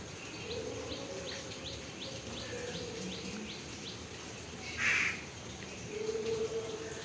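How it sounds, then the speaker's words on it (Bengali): Crows and other birds calling outdoors after a night of rain, with a faint repeated rapid chatter and one clearer cawing call standing out midway over a low insect-like background hum. "যেদিকে তাকাচ্ছি শুধু পাখি কাক ডেকেই চলেছে।"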